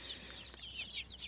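Desi chickens cluck on a poultry farm, a handful of soft, scattered calls at a moderate distance over faint background noise.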